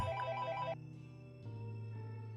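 A mobile phone rings with a bright, sustained electronic tone in two bursts separated by a short pause, loud and clear with no voices present.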